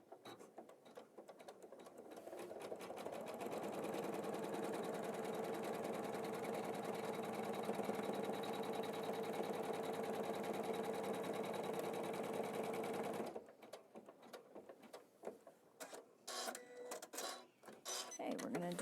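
Embroidery machine stitching a tack-down step on a tree design, a fast, steady mechanical whir and patter running for about thirteen seconds before stopping, followed by scattered handling clicks.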